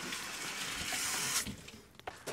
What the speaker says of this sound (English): let me turn off the water really quick